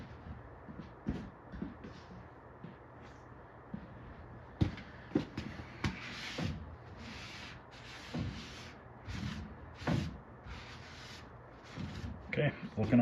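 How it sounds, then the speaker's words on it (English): A paper towel wipes the coin door of a Spy Hunter arcade cabinet under restoration, giving soft irregular rubbing swipes with occasional light knocks and thumps, close and fairly quiet. "Get my paper towel and wipe off that coin door."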